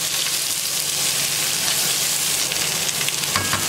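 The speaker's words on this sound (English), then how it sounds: "We will cook a little, 2-3 minutes with the vegetable." Vegetables and pepper seeds fry in a pan for a chicken stock and chorizo risotto, giving a loud, close, continuous sizzle with a few brief stirring sounds near the end and no talking.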